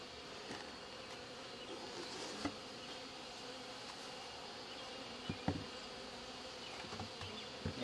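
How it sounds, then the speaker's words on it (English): Honey bees buzz steadily around an open hive's honey super in a busy bee yard, a dense, continuous drone close by with a few faint knocks, no talk. "Lots of bees in the honey super."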